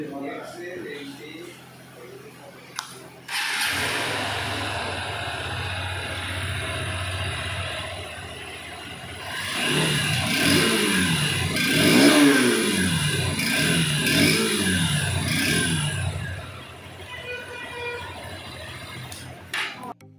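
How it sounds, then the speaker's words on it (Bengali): A Honda Hornet 2.0 184cc BS6 motorcycle idling close by after a start-up, its exhaust rising into a few throttle blips and revs in the middle before settling back, with someone talking over it throughout. "এবার বাইকের এক্সস্ট ফ্লো চেক করে।"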